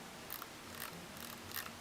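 A computer mouse scroll wheel is rolled up and down, giving soft clusters of quick ratcheting clicks at a steady pace, close and quiet, with no voices.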